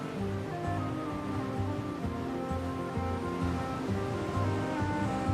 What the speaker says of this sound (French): Cette Méditerranée dont les vagues dessinent et sculptent la côte.